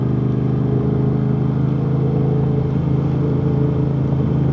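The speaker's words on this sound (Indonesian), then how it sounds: "Masih nyaman suara knalpotnya." Aprilia RS660 sport bike with an aftermarket exhaust rolling along slowly, a steady low engine drone holding an even, unhurried note throughout, close and continuous with no bursts or pops.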